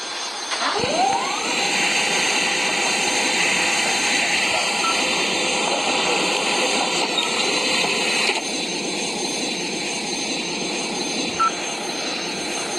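Airliner jet engines whine and roar steadily during takeoff in the Airline Commander flight game, a rising tone at the start, then a constant loud drone with small electronic beeps layered on top.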